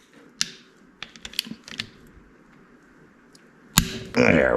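A ratchet cracks loose the T27 Torx bolts on a Harley-Davidson Twin Cam stator cover in a workshop. Scattered sharp metallic clicks lead to a loud crack, then a quick burst of ratcheting, close and clear.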